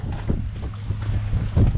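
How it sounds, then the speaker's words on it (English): Strong wind buffets a fishing boat out on open water, a steady low roar with gusty swells and microphone rumble throughout, loud and close, with no talking. "The wind is actually traveling west."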